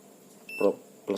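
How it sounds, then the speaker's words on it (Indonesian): An avometer (multimeter) set to continuity buzzer mode gives two short beeps about half a second apart, close and fairly loud, during laptop repair testing. "Kita atur dulu avometer di mode buzzer."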